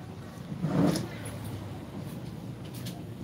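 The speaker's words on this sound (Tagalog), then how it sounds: "makikita nyo yung mga sasakyan dumadaan dun sa unahan" Cars pass along the road at the street corner ahead, one vehicle swelling briefly past before traffic settles into a faint, steady hum, with a voice murmuring faintly underneath.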